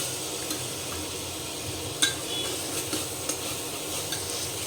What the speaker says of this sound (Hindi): देखिए मसाला तो एकदम मस्त मज़े से भी भून रहा है